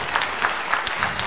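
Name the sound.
applause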